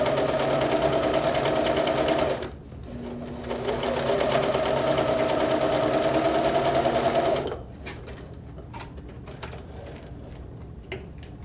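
A sewing machine stitches 3-inch quilt sashing onto fabric in two long, steady runs of rapid whirring, broken by a short pause, then it stops and only quiet handling noises follow.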